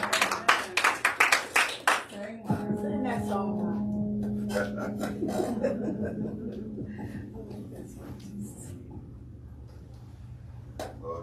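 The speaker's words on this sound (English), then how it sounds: "Give a hand clap as she comes forward" A church congregation claps in a quick, crowded burst for a few seconds, then gives way to sustained organ or keyboard chords and voices speaking over the music.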